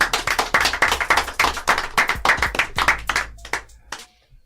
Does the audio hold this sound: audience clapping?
yes